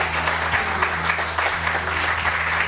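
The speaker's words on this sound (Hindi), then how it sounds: "तालियां वालियां तो बजाओ तुम लोग।" A studio audience on a Samaa morning show claps steadily, a continuous bright patter of many hands with a low hum running beneath it.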